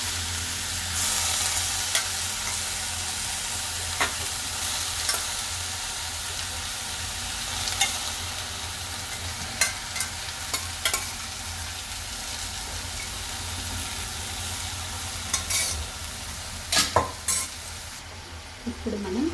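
Half a kilogram of broad beans sizzles steadily in a hot pan, with scraping stirs and occasional clinks of the spoon against the metal recurring throughout, close and continuous with no talking.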